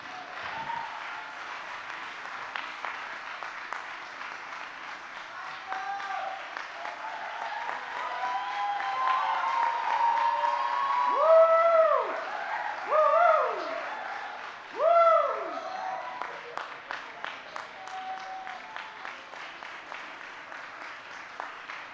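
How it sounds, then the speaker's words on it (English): Graduation-ceremony audience at a university design and media school applauds steadily, swelling in the middle with rising whoops and whistle-like cheers, then thinning toward the end. "a big round of applause for them"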